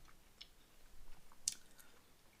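Someone chewing a standard mint chewing gum from a German EPA ration pack produces faint, close, irregular soft clicks and wet mouth sounds with no talking.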